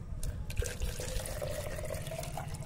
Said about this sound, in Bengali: জল পাইপের সাহায্যে আসছে এবং পড়ে যাচ্ছে